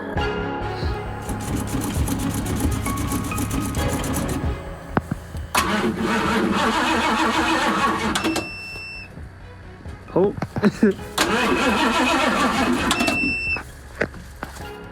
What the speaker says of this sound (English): This one is gonna be a good cold start, so let's try it out.